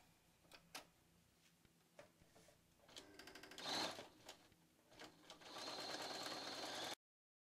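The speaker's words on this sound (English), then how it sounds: "I'm actually going to sew a little bit further past the pins" Sewing machine stitching the edge of an envelope pillow cover, a quiet rapid mechanical whir that starts and stops in short bursts, then runs steadily louder toward the end.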